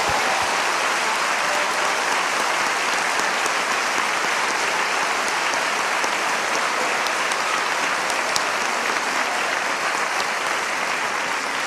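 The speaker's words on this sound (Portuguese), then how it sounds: "Você pode aplaudir o Senhor agora?" Sustained audience applause fills a church service, steady and dense from start to finish with no speech over it.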